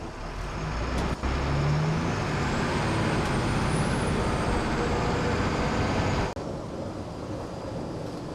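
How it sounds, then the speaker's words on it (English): An LMTV military truck driving at around 50 miles per hour on a road, a loud continuous broadband rumble of engine and road noise with a brief hiss-like break near the end, heard from the cab. "The brakes on this truck work just as good as it accelerates."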